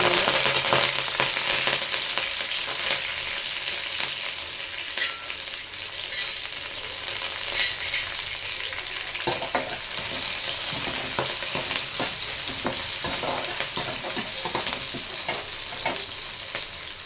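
Curry leaves crackle and fry in hot oil for a mushroom-free moru sambar base, a steady dense sizzle with stirring clicks throughout, close and loud, with no voices.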